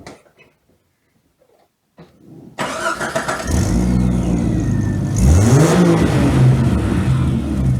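A Jeep with a recently fixed exhaust cranks briefly after a few quiet seconds, then catches and settles into a loud, close idle, with one quick rev partway through.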